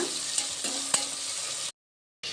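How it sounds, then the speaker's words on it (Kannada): Mutton goes into frying tomato masala for a spicy curry, a bright close sizzle with a couple of sharp clinks before a brief silence, then the frying hiss returns. "ನೋಡಿ ಟೊಮೊಟೊನು ಸಹ ಚೆನ್ನಾಗಿ ಫ್ರೈ ಆಗಿದೆ ಈಗ ಮಟನ್ ಹಾಕ್ಕೊಳ್ಳೋಣ"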